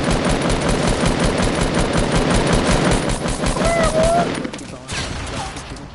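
Rapid sustained video game gunfire, loud dense automatic bursts filling the whole stretch before easing near the end, with no clear speech.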